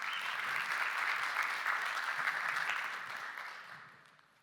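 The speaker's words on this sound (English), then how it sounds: "can we have a round of applause for them" Conference attendees applaud the venue and organisers at a DevSecOps talk, a steady wash of clapping from a large room that gradually tapers off.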